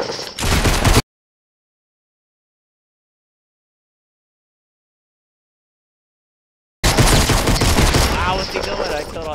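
Shotgun and pistol fire in the Fortnite video game, loud dense bursts of shots in two stretches with a long silent gap between them, mixed with game noise and voices.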